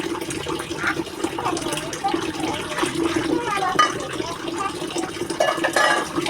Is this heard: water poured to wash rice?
yes